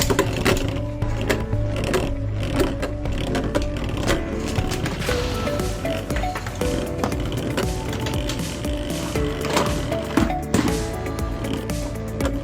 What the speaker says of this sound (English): All right, first one's first, we'll launch Hover Wyvern.